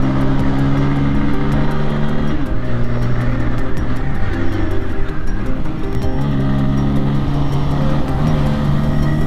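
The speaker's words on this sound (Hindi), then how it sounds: "तो 9000 गया है आरपीएम का लिमिटर" A Bajaj Pulsar N150 motorcycle engine, 2024 model, revs up to its 9000 rpm limiter, a loud, close, steady buzzing roar with strong engine harmonics held for the full stretch, with no talk.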